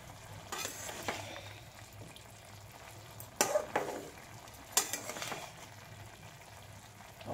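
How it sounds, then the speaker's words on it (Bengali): Leafy greens (shak) turned over in a pan with a spatula, a faint steady sizzle beneath, broken by a few sharp scraping strokes of utensil against metal, with no voices. "এবার এটা একটু তলা উপর করে দেবো, নাড়িয়ে দেবো।"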